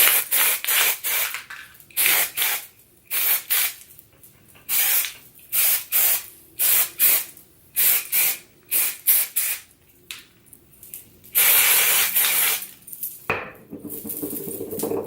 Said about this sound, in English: It's just like a dry texture spray